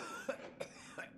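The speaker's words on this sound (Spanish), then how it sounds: "Que están todos los NPCs tosiendo." Non-player characters coughing in the video game Sekiro: Shadows Die Twice, four short rough coughs spaced evenly, close and clear with no talking over them.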